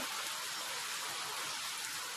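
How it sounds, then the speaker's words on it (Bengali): Steady, dense rain hisses continuously, falling heavily on surfaces with no pauses. "7:30 8টা নাগাদ এরকম বৃষ্টি হচ্ছে, শুরু হচ্ছে।"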